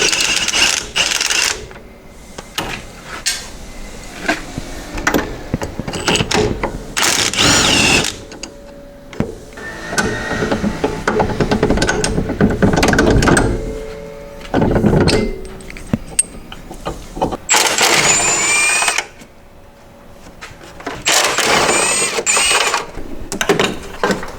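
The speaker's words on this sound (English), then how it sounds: "we're gonna start off by taking off these bolts that's holding on the coilovers." A wrench loosening 17 mm bolts holding coilovers on a car during a suspension job, with loud, close metallic ratcheting and clanks in bursts and quieter gaps between them.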